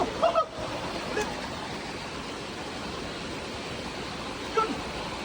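Water rushes through a dam spillway in a loud, continuous roar that never breaks, with brief shouts near the start and end.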